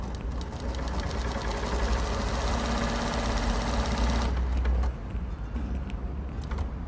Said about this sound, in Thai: จากนั้นเราก็จะเริ่มเย็บได้เลย